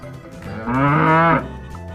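A bull lowing in a Bangla alphabet cartoon for children, one loud, drawn-out moo rising to a full tone and then ending, heard close and clear.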